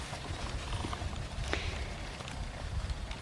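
Hooves of a ridden horse, a former breeding stallion, clip-clop at a walk in an uneven rhythm of close, soft thuds over a low rumbling background.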